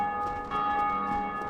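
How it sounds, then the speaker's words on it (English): A deep bell tolls in Dark Souls: Remastered after the gargoyles are defeated, its sustained ringing tone hanging steadily under a bed of game ambience, with no talk. "Somebody beat the gargoyles and rang the bell."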